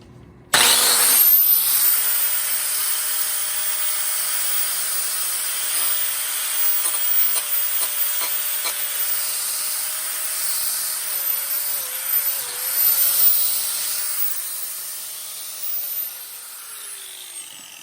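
A 4.5-inch angle grinder cuts into the toe of an indestructible-style shoe with a steady, close, high whine and grinding hiss that holds for most of the clip, shifting slightly in pitch as the load changes.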